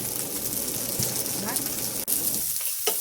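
Bacon stir-fried with green beans, pepper and oyster sauce sizzles loudly and steadily in a pan, with brief stirring scrapes through the hiss.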